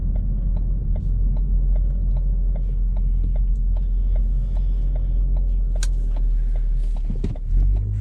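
Steady low engine rumble and road noise from a 2014 Ford Focus SE hatchback as it drives and turns left, with faint regular ticking from the turn signal and a brief bump near the end, no talking.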